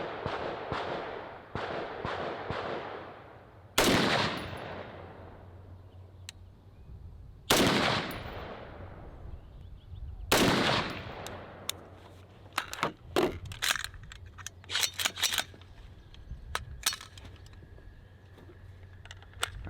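AR-15 rifle fitted with a TriggerTech trigger firing three loud, well-spaced outdoor shots, each a sharp crack with a long ringing decay, followed by fainter scattered pops and clicks.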